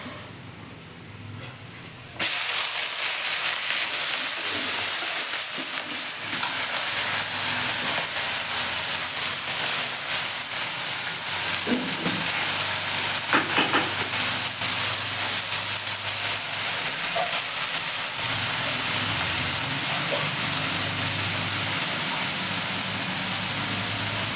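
Chopped onion hits hot oil in a pan, bursting into a loud, steady sizzle that carries on unbroken for over twenty seconds, with faint clinks of stirring underneath.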